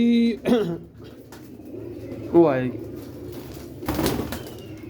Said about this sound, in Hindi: तो कबूतर आना शुरू हो गया